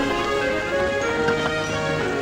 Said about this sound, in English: an engine attached to a train was afraid of a few drops of rain